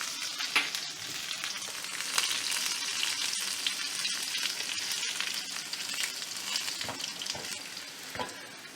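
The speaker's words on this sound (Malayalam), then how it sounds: "ഒരു 3-4 അല്ലി വെളുത്തുള്ളി ഇല്ലേ ചതച്ചത് ഒന്ന് ഇട്ട് കൊടുക്കണ്ടേ." Crushed garlic cloves, dried red chillies and curry leaves fry in hot oil with mustard seeds, a steady close sizzle with scattered crackling pops and no talk.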